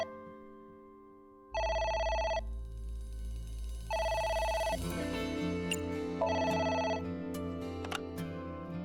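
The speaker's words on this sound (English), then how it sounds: "It's the phone. Maybe try picking it up?" A telephone in the video game AI: The Somnium Files rings three times in an even electronic pattern over a low musical background, with no voices.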